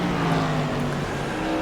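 A Whelen Tour Modified race car in the iRacing game at South Boston roars past with a steady, loud engine drone and slight pitch shift, heard alone.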